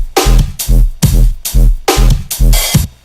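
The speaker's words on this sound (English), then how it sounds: "this is what the dry bass would sound like with that drum loop had I gone with this." Dry square-wave synth bass played with a drum loop: loud, punchy pulses repeating about every half second, each with a strong low thump and a bright hissy attack, and no talking.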